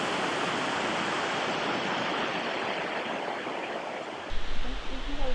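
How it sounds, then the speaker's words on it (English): Tallulah Falls in Georgia's Tallulah Gorge pours beneath a suspension bridge, a steady, dense roar of falling water heard up close, with a brief low rumble or wind bump near the end. "We are standing in the middle of the suspension bridge at Tallulah Falls, and it's just pouring underneath us."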